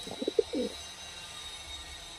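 Madras pigeons give a short burst of soft, low cooing notes, a few quick pulses and then a longer coo close by, followed by quiet.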